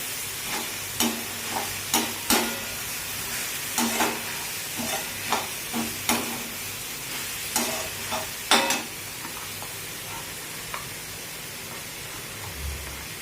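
Carrots frying in a pan for a stuffed paratha filling with bottle gourd and potato: a faint, low sizzle broken by a dozen or so sharp scrapes and taps of a stirring spoon at irregular intervals, with no voices.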